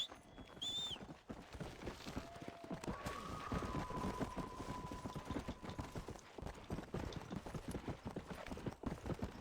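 A horse gallops steadily in Red Dead Redemption: Undead Nightmare, its hooves beating in a fast, continuous rhythm close by, with a brief whinny at the start and faint outdoor ambience throughout.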